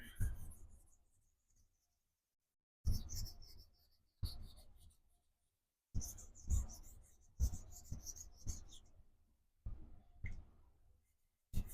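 A vintage Schenectady straight razor has its bevel set on a Vermont Green honing stone: bursts of close, scratchy scraping strokes in rhythmic groups, separated by short pauses of near-silence.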